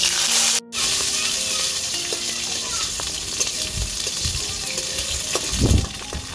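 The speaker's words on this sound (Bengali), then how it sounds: "রসুন ভাজা হয়ে গেছে।" Garlic fries in hot oil in a wok, a continuous near hiss and crackle interrupted by a short gap at the start, with occasional stirring knocks and scrapes and no talking.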